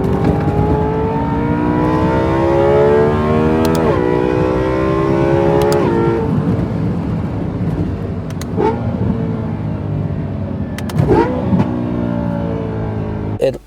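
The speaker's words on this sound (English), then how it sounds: "you can't really beat that sound every time you shift in your M3" BMW E92 M3 with a DCT gearbox, shifted through Mad Trace magnetic paddle shifters: a loud engine revs and climbs, with sharp shift breaks and pops between gears, then settles lower with brief bursts near the end.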